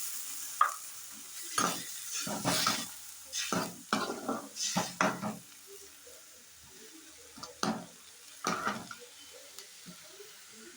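Spice masala frying in oil in a pan, a low steady sizzle broken by bursts of stirring and scraping strokes, some quick clusters and then quieter gaps, close up and fairly soft.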